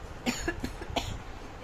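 A few sharp coughs close by, three or four bursts in quick succession, with no talking around them.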